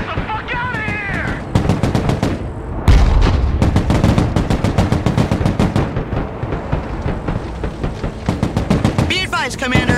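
Dense, loud automatic gunfire and rapid bursts from the video game Broken Arrow, a modern military battle, with heavy booms and distant shouting voices mixed in.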